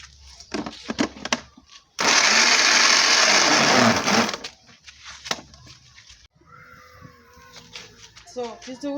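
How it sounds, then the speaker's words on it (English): Turkey berries are blended in a blender while cooking egusi soup in a village; a loud, steady whirring burst of about two seconds sits between stretches of talk. "I want to blend it."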